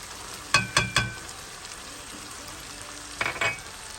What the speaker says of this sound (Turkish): Güzelce karıştırıp bir miktar daha kavuracağım.